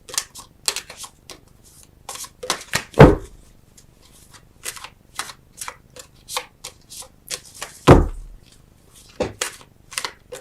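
Tarot cards are shuffled and drawn by hand: rapid papery riffles, soft slaps and taps on a table, recurring in short bursts with a few louder thumps, no talking.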